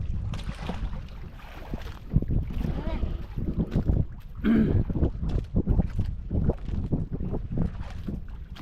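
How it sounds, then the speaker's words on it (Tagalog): Gusty wind buffets the microphone in heavy low rumbles at sea, with water and boat noise and people talking now and then. "Malakas ang hangin."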